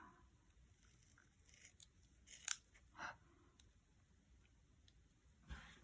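Scissors trimming a paper craft: a few quiet, scattered snips and crisp cuts separated by pauses, close by but faint, with no talking.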